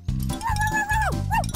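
A cartoon dog from a children's animated show barks and yips in quick high-pitched bursts over a bouncy music track, the calls close and lively.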